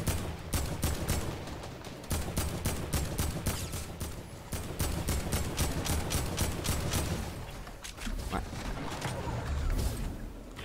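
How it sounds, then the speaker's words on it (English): Rapid automatic gunfire from a Fortnite match, a dense string of loud repeated shots with brief pauses between bursts, under the noise of the game. "I'm gonna shoot at him now."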